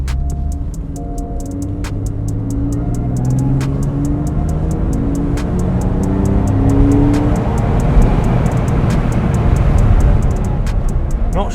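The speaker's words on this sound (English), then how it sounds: "That naturally aspirated flat 6 boxer engine sounds amazing." A Porsche 911 997.2 Carrera S naturally aspirated flat-six engine drones loudly from inside the cabin, its pitch rising and shifting as the motor revs through gears, with steady road rumble underneath.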